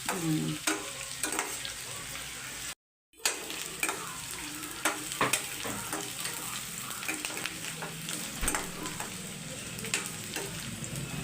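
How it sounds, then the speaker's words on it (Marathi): Mutton fries in a pan with a steady close sizzle while a spoon stirs and scrapes it in irregular clattering strokes, with one brief cut to silence partway through. "परतून घेते. गोल्डनिश ब्राऊन कलर यायला पाहिजे."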